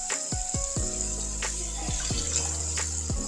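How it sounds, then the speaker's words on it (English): Lemon seeds rinsed under a steady stream of running tap water that flows loudly and continuously, with occasional clinks and knocks from the sink. "So you're going to take the lemon seeds and rinse them off."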